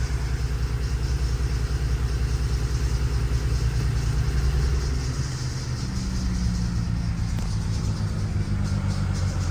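A BMW 335xi engine runs rough and misfires, giving a loud, close, continuous low rumble with an uneven pulsing idle. The tone shifts partway through, and no one speaks.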